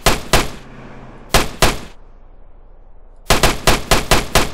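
Gunfire in GTA San Andreas: loud, sharp bursts of shots, two pairs early then a rapid string of six or so near the end, separated by quieter game ambience.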